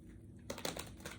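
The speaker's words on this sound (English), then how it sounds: "The shuffling for Capricorn." Tarot cards being shuffled during a reading, a quiet spell of soft hum followed by a brief flurry of light crisp card riffles and taps, close and faint.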